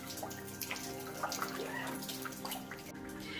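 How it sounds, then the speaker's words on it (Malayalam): Water trickles down through a hole inside a cave at Meghalaya's Garden Caves near Cherrapunji, a steady, soft splashing and dripping wash that continues without pause and without any talk. "ഈ ഒരു ഹോളിൻ്റെ ഉള്ളിലെ കൂടിയാണ് ഇങ്ങനെ വെള്ളം ഒലിച്ചൊലിച്ചിറങ്ങിയതേ ഇവിടെ"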